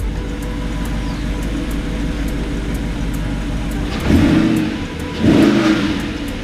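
An Audi R8 V8 with S-Tronic gearbox idles with a low steady burble in Sport Plus mode, then gets two short, sharp throttle blips, each a loud rising bark that falls back to idle.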